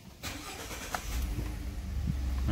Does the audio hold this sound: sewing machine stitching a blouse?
no